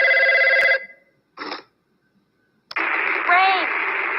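Telephone ringing with a sharp electronic trill in short bursts separated by silence, followed by a burst of static-laden radio-like noise.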